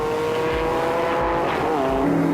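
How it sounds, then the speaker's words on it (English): Vintage race cars, including a Cobra, roar into turn 4 in a loud, continuous engine drone whose pitch shifts as they pass close by, with no voices. "Gary Swan in his Cobra is just ahead of Nick Parrott as they head into turn 4."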